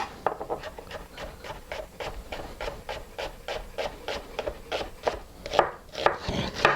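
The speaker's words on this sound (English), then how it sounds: "Make parallel cut to the striations of the onion" A knife slices an onion on a cutting board in steady, rapid strokes, about eighteen crisp close chops at an even rhythm with no talking.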